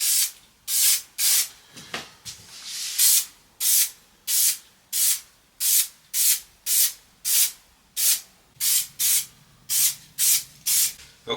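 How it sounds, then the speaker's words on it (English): Contact adhesive sprayed in about sixteen short, even hissing bursts onto masked-off veneer during restoration of a 1920s hallstand; each burst is close, loud and separated by brief pauses, with no talk. "I'm just going to use a contact adhesive spray"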